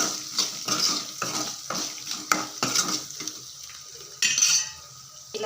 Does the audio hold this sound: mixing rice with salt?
yes